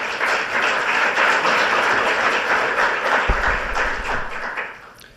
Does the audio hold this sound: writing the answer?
no